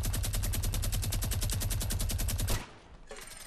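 Rapid automatic gunfire from a first-person video game, a dense, loud burst of shots lasting about two and a half seconds before cutting off, leaving a brief quieter tail.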